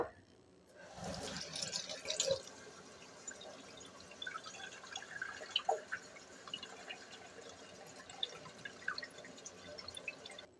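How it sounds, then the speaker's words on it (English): Running water pours into a glass jar packed with philodendron cuttings, a steady faint trickle and splashing with scattered drips, close by and without speech. "now that this one is nice and packed, it's time to go and fill it up with water"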